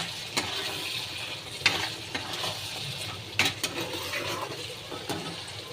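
Food nearly done in a cooking pan is stirred with a spatula, giving irregular scraping strokes over a soft, steady sizzle, close by and without talk.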